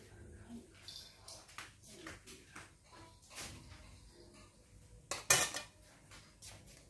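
Octopus being stirred with garlic and lemon in a pan, scattered utensil scrapes and clinks against the pan, with one louder clatter near the end, under a quiet room tone.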